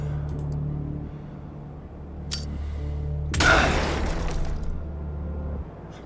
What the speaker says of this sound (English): Click the highlight tile to throw the grenade.